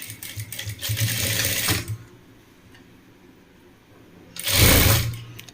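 A sewing machine stitches fabric for a scrunchie in two loud bursts, one at the start and a shorter one near the end, with a quiet pause between them.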